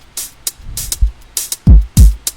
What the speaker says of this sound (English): So together the drum sounds like this.